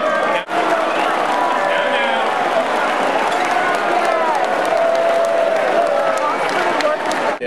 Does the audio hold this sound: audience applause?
yes